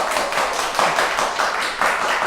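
A small group claps together after an art talk, a close, steady patter of hand claps that swells and eases in waves, with no voices over it.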